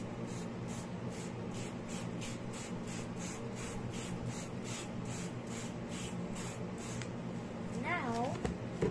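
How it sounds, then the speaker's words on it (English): Water misted from a spray bottle onto fenugreek seeds, a steady train of soft hissing spritzes repeating about every third of a second, close and fairly loud, with a brief squeaky tone near the end. "spray"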